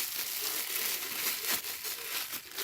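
Yogurt kneaded and pressed inside a closed plastic bag, giving a steady close crinkling and rustling of plastic with a few sharper crunchy squeezes, no talking.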